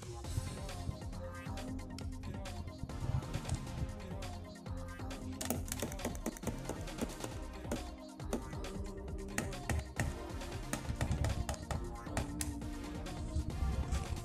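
Clicky keyboard typing enters an unlock code on a Ford CDR 4600 car stereo: dense, irregular keystrokes clatter continuously, mixed with busy background noise and faint talk.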